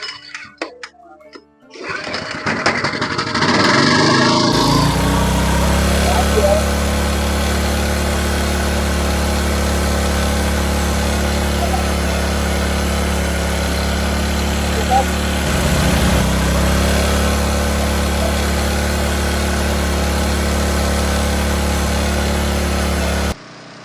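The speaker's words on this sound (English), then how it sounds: "we're going to start the gen right now to see how the gen works" A generator under governor race rod repair cranks with a short rattling start, then settles into a loud, steady running drone that holds evenly to the end before cutting off.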